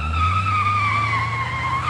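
Car tires squeal in a sustained, high-pitched skid as the car spins out from a stop sign, loud and alone with a steady engine rumble underneath.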